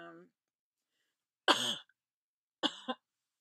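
Two sharp, close coughs with a pause between them, the second a quick double hack, after a faint trailing vocal sound.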